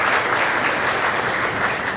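A dinner crowd at an annual awards celebration gives a short, dense burst of clapping, steady and close throughout for about two seconds.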